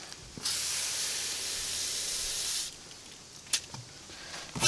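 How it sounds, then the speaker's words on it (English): A cleaning brush is rinsed under running water while testing an extra tough multi-purpose degreaser, a steady loud rushing spray lasting about two seconds, then stopping, followed by a few faint knocks and clatters. "Okay, I'm gonna rinse the brush out."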